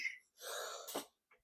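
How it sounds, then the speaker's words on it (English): A man's coughing: a faint breathy stretch, one short rough burst, then a loud, sharp cough that cuts off abruptly, close to the microphone with no talking. "I'm getting a case of the coughs."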